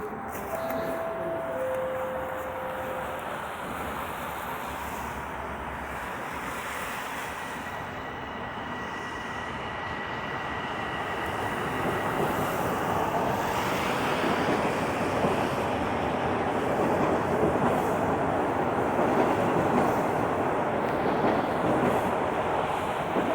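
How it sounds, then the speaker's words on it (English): A northbound commuter train in midtown Toronto near the Beltline Trail pulls away on a snowy January day, a broad rumbling wash that slowly swells louder, with a faint tone at the start and no voices. "watch this train pull out"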